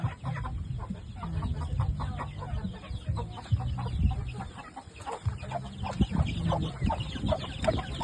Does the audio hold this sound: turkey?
yes